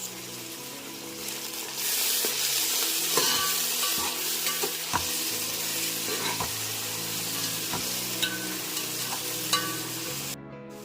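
Fenugreek, mint and coriander leaves fry in a pan with a continuous sizzle while a spoon stirs and scrapes in intermittent knocks, close and steady for the whole stretch.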